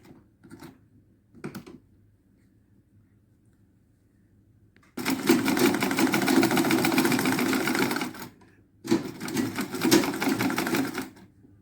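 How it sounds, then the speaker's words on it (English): Close-up sewing machine stitching a fabric statement headband, running in two steady bursts of about three seconds each after a couple of brief clicks, loud and alone with no talking. "So let's sew it. You do that for the both side. So let's sew."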